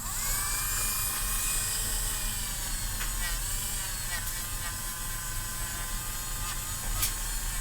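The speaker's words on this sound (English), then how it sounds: "I got my cordless Dremel. I'm going to run it at 15. with the polishing wheel." A cordless Dremel with a polishing wheel buffs a Zippo lighter at a moderate speed, giving a steady high whine with a light hiss that holds throughout, close and fairly loud.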